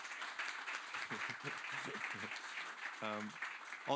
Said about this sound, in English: Please give a warm applause to him.